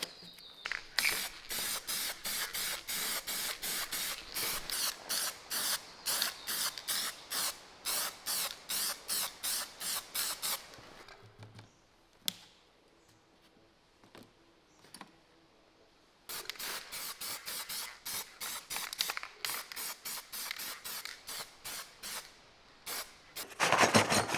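Spray paint from an aerosol can hisses in rapid bursts while old gas-powered air compressor parts are coated, loud and close, with a quieter gap of faint clicks in the middle before the spraying resumes.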